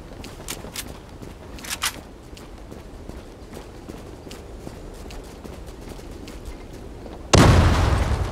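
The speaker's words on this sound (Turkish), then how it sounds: "Bombayı kur ve patlat." A bomb explodes in the shooter Zula: a burst of loud, roaring blast noise near the end, after a stretch of quiet footsteps and faint clatter.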